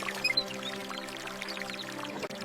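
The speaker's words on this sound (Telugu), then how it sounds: "నీళ్లు చాలా చిన్నగా వస్తున్నాయి." A hand pump lets water trickle out in a thin, steady stream, pouring continuously at close range with no talk over it.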